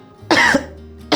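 A patient coughs twice during a medical check, one loud close cough followed by a second just after a short pause.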